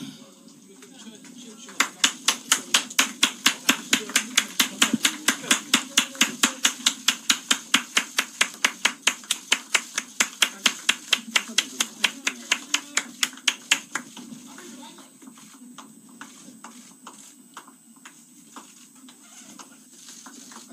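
Party members at a Liberty Unification Party joining ceremony clap in steady unison rhythm for about twelve seconds, then stop, leaving a low murmur of voices and shuffling.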